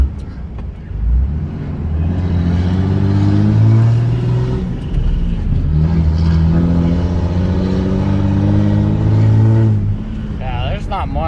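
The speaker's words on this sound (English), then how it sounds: "once the clutch engaged, I gave it half throttle" Cab ride in a 2003 Ram 2500 Cummins diesel pickup with a six-speed manual, pulling away at half throttle after the clutch engages, a steady low engine drone with rising harmonics that holds for several seconds under continuous talking.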